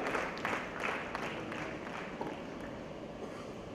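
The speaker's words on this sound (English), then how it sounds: "A big round of applause for all these wonderful gentlemen who joined us today." Audience applause at the inaugural ceremony of a cinema trade expo, a steady, fairly faint wash of many hands clapping from a distance throughout.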